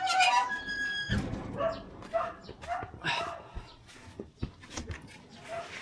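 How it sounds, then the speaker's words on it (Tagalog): Dogs bark and yip in short bursts, mixed with whimpers and squeaky sounds, fairly close but moderate in volume. "Narinig ko yung mga tahol ng mga aso."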